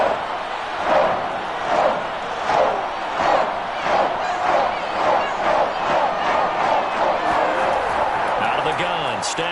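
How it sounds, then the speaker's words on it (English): A stadium crowd in the Madden 22 football video game swells and roars steadily ahead of a big third down between the Rams and Vikings, continuous and loud beneath an announcer's commentary. "The crowd getting into it as we come up on a big 3rd down."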